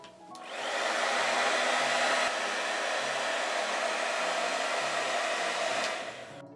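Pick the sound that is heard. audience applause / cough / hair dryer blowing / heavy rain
hair dryer blowing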